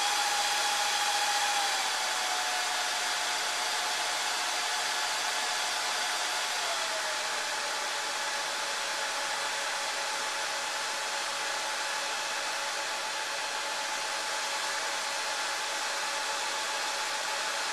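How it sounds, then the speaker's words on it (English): A Dell PowerEdge 2650 rackmount server fan whirs as a steady, loud broadband rush, and its tone drops audibly as it winds down in a couple of steps, then settles into a constant hum with no talking. "Here the fan's kind of winding down."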